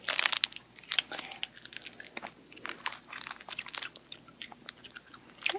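Crisp bites and crunchy chewing of extra sour candy, close to the mic, in irregular bursts with some crinkly wrapper-like rustles between chews.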